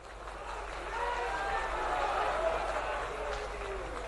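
Crowd applause at an outdoor political rally, a dense, sustained wash of clapping from a large audience that swells slightly midway and holds steady throughout.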